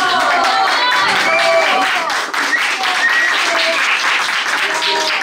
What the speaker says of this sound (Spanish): Aplausos para Rosmarie